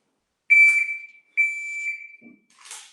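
A shot timer gives start beeps during dry fire pistol practice: two loud, steady, high electronic beeps, each about a second long with a short gap between, then a brief rustle of movement.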